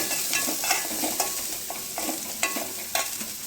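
Onions sautéing in a pan for a village-style paruppu urundai kuzhambu, a steady close sizzle broken by regular scraping stirs, with no talking.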